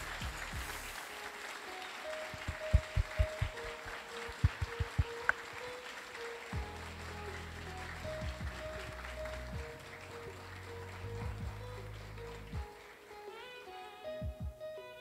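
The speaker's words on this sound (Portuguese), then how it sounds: "gostaria que só os formandos aplaudissem agora as famílias que vieram prestigiar também" Graduates applauding their families during a university graduation ceremony at UNICAMP's FEM. Sustained hall applause runs throughout, dense and steady, with a few sharper claps standing out and a faint tonal hum underneath.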